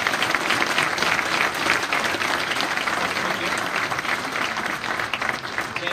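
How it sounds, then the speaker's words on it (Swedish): An audience gives Anna a big round of applause, loud, sustained clapping from many people at close range, steady throughout with no break. "Hörrni, jag tycker att det var en stor applåd till Anna"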